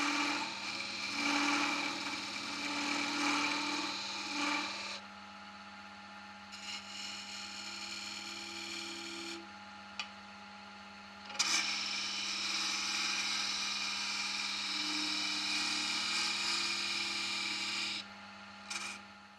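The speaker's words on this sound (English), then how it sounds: "The parting tool creates the recess ready for the thread." Parting tool cutting a recess on a metal-turning lathe ahead of thread cutting, a quiet steady scraping whine with a low hum underneath, broken by a few short pauses and restarts.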